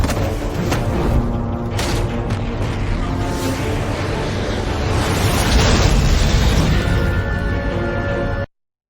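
A loud, sustained roaring blast from the Batman Telltale video game fills about eight seconds with dense rumbling and crackling debris, swelling in the middle before cutting off abruptly.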